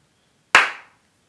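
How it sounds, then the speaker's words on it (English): A single loud hand clap, sharp and close, ringing briefly before fading, heard alone with no talk around it. "Don't wince at my clapping."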